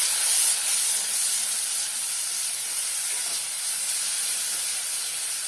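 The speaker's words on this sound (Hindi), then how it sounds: "प्यूरी को अच्छे से भून लेंगे" Tomato puree for pav bhaji fries in oil, giving a steady, close hiss and soft sputter that barely changes over several seconds, with no speech.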